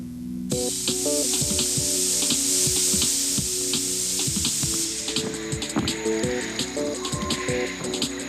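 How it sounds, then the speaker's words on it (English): An aerosol can sprays in a continuous hissing jet that starts abruptly and runs on, layered over a background of music. "Today, aerosols spray everything, from furniture to armpits."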